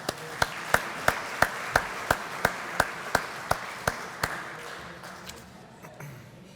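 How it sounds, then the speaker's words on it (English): At a college athletic hall of fame ceremony, one close pair of hands claps sharply about a dozen times in an even rhythm over softer crowd applause, then fades out. "please help me in congratulating and giving them a round of applause"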